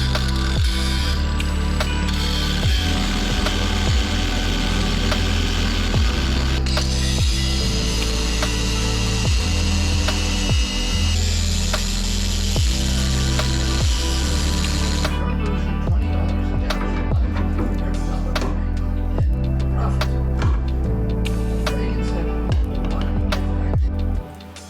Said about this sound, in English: I'm going to start by cutting away the excess metal that we no longer need